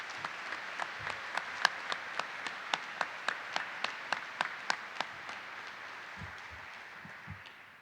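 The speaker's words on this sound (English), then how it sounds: "please join me in a round of applause for the military children and the spouses" Audience applause at a U.S. Army flight school graduation ceremony, a steady wash of clapping with distinct evenly spaced louder claps, moderately distant, fading out near the end.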